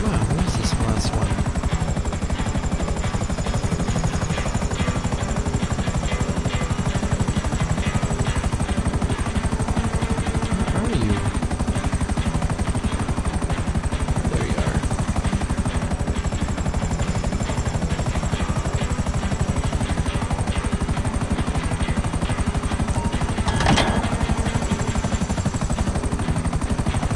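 A helicopter in the video game GTA V, its rotor thudding in a loud, continuous, steady drone with a high whine riding above it for the whole stretch, no speech over it.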